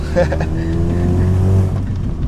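A modified Honda Civic's exhaust rumbles low and steady at idle or light throttle, close by, with someone talking over it.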